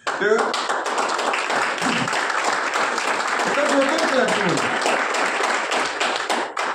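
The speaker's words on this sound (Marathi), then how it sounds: "टाळ्या वाजवायच्या असतील तर मनापासून वाजवा" An audience at an event claps continuously and fairly loudly, with dense scattered hand claps filling the whole stretch while a voice talks over the applause.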